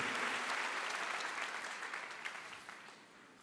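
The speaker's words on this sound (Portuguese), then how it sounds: "Você pode dar uma salva de palmas para Jesus?" A church congregation breaks into a round of applause for Jesus during a sermon on the Holy Spirit, a continuous wash of many hands clapping together at moderate distance that gradually tapers off.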